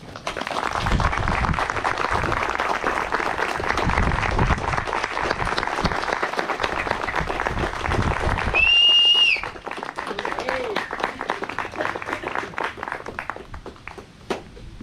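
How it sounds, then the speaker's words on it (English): A standing audience applauds at an Eagle Scout Court of Honor, sustained loud clapping filling the room, briefly joined by a high electronic squeal near the middle, then the clapping continues somewhat lighter. "Will the audience please rise and give Eagle Scout Gage Rather a round of applause."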